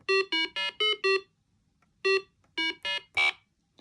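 A sequence of short electronic beeping tones from a 1978 Merlin handheld electronic game: five quick beeps, a pause, then four more, the last one higher-pitched, crisp and close.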